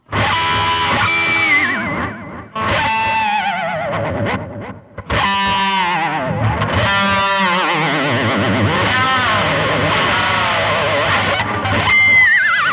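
Heavily effected electric guitar with distortion and chorus imitating a horse's neigh, with sliding whinny-like pitch bends and bursts of loud, sustained tone.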